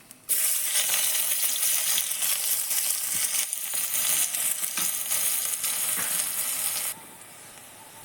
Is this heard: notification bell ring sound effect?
no